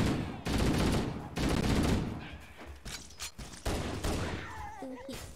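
Gunfire rattles in bursts during Halo gameplay, with rapid automatic shots and an explosion mixed with game sounds, while people talk over it.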